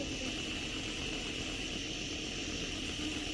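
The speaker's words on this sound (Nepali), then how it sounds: "बाबा ड्रोन चल्यो" A small RC drone hovering nearby, giving a steady, even whirring buzz of propellers that holds without change throughout.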